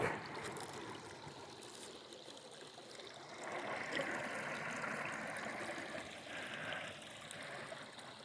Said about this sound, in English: So I'm gonna cross this creek.